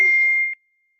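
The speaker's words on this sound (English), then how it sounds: "I'm getting text messages on my phone" A single bright phone notification ding for an incoming text, clear and close, with a short ringing tail that fades into silence within about half a second.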